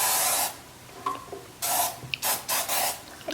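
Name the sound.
non-stick cooking spray greasing a pan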